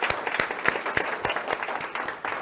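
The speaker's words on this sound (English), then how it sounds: "the entire family of ZF deserves a huge round of applause" Scattered clapping from an audience at a technology centre inauguration, moderately loud and fairly sparse, with a hint of voices underneath.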